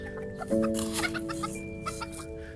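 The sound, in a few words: bantam chickens clucking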